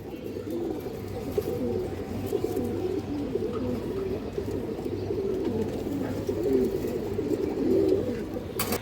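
Pigeons cooing steadily in the background, several soft overlapping throaty calls repeating under a constant low hum.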